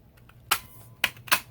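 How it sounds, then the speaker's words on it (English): A handheld paper punch snaps three times through a stamped greeting card piece, each a sharp, close, crisp click separated by a brief pause. "then you can use your punch and cut out just that side"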